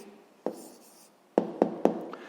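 Pen or pencil taps and scratches on paper while an answer is written down, a few sharp close strokes with short gaps, quiet and without talk.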